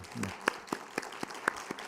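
A church congregation at a Sunday morning service claps to welcome a visiting missionary, sharp claps falling in an even, spaced rhythm, moderately faint, with a brief voice near the start.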